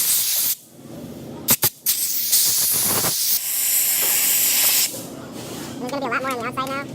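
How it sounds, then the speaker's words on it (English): Compressed air blasting solvent out from between the shells of roller bearings, a loud sustained hiss broken by brief sharp bursts, followed by someone speaking near the end. "I'm blowing out the solvent."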